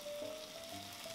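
Paella ingredients sizzle and fry steadily on a hot plate just after white wine is poured in, a close, even crackling hiss that carries on without pause and with no talk.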